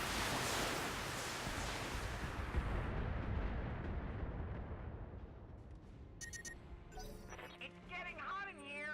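SRM missile salvo fired at an Atlas mech in BattleTech, a loud broad roaring rush of launches and impacts that slowly fades, followed by a few sharp game effects and a voice near the end.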